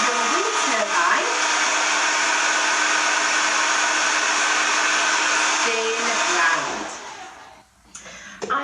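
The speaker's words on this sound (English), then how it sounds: "by switching on your hairdryer and watching your wind turbine" A hairdryer blows steadily at close range onto a small model wind turbine, a continuous loud whooshing hum for about seven seconds that then cuts off, leaving faint handling noise.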